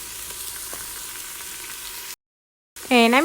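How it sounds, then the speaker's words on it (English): Onions frying in hot oil inside an Instant Pot give a steady broadband sizzle, then a short silence, then a louder, sharper burst of sizzle with a whining tonal edge. "Add onions into this oil"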